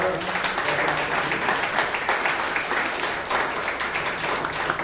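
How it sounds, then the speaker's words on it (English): Audience at a Toastmasters meeting in Bangalore giving a big round of applause, a dense, steady clapping from many hands at moderate loudness, lasting the whole stretch without talk. "can we have a huge round of applause for"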